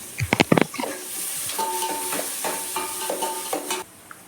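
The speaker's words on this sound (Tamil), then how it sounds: "இது ஃபுல்லாக நம்ம கண்ணாடி பதம் வர வரைக்கும் நல்லா கொஞ்சமாக வதக்கி விடுவோம்" Chopped onions sizzle steadily in a hot pan while a spoon clatters and scrapes, stirring them in quick bursts, close and clear with no talking.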